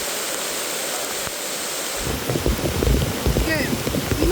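Heavy rain pours down at a beach as a dense, loud wash of hissing noise. It swells stronger partway through, with a voice briefly audible over it.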